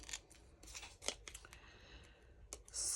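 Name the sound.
scissors cutting out paper butterflies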